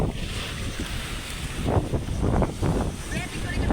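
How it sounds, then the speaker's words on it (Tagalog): Rough, surging water noise with wind buffeting the microphone, waves crashing in repeated bursts close by. "Malalakas na alon."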